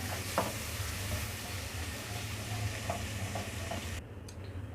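Garlic ginger paste sizzles steadily in hot oil for bitter gourd curry, with a few light clicks from stirring; the frying grows a little quieter at the end.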